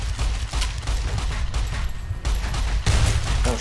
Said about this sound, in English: I'm taking the single shotgun